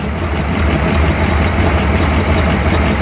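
A 1957 Ford Thunderbird engine idles close by, a loud, steady low rumble with an even pulse throughout and nothing else over it.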